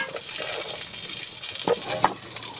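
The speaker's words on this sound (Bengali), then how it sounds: "আমার আলুটা ভাজা হয়ে গেছে" Potatoes seasoned with salt and turmeric fry in a pan of hot oil, giving a steady close sizzling hiss with a few scraping stirs near the end; no one speaks.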